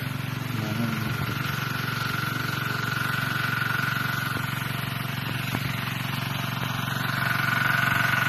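An irrigation pump engine on a calamansi farm runs with a steady, droning hum at an even pitch throughout, close by and constant.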